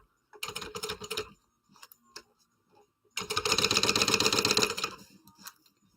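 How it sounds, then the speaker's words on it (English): A sewing machine bastes fabric together in two close bursts of rapid stitching. The first is short and the second longer, with faint handling clicks in the pause between them. "this is pretty much just basting this together"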